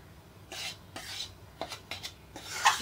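Flour roasting over medium heat for laddoos is stirred in a pan, a series of scraping, rasping strokes with a few light metallic clinks, close and fairly quiet with no talking.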